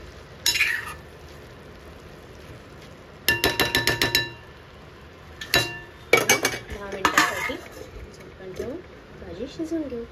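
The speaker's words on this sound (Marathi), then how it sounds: "पुन्हा हे छान ढवळून घेऊ." Cabbage and pea curry being stirred in a pan: bursts of rapid metallic spoon clatter against the pan with quiet gaps, and a voice talking toward the end.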